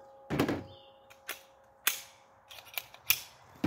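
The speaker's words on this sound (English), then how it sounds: "I actually forgot I was only doing 5 rounds. I don't even know how many I shot." Sharp pistol shots from a Glock 21 chambered in .45 ACP at a shooting range, several separate cracks spaced irregularly over a few seconds, fairly close and loud, with no talking.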